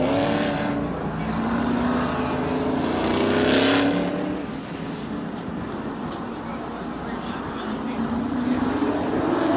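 Late model sportsman race cars roar around Plymouth Speedway in a CRA feature race, a dense wash of engine noise that swells and fades as the pack passes, with a commentator talking over it.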